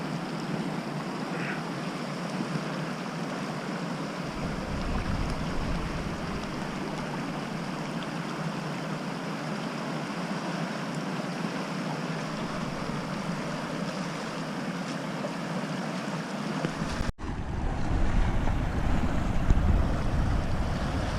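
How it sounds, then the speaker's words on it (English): Steady rushing creek water flows close by during a creek crossing, a constant wash with wind buffeting the microphone, a sharp knock near the end as the flow grows louder. "Time for a little creek crossing."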